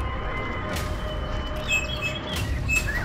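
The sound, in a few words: racing bird arriving and chirping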